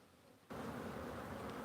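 Honeybees in an opened backyard hive during an inspection, a low steady buzz that rises abruptly after a quiet moment and then holds at a fairly soft level.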